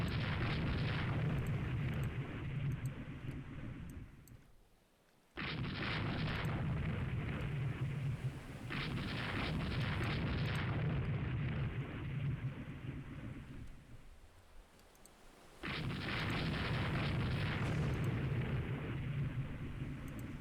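Torpedo explosions during a naval battle in the warship game Rule the Waves 2, heard as long, loud rumbling booms that roll on for several seconds, cut off abruptly and return in repeated waves with no talking.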